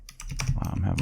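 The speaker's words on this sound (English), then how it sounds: "Wow, I'm having a lot of trouble typing." Quick, uneven typing on a computer keyboard, close clicks clustered together, with a voice partly over them.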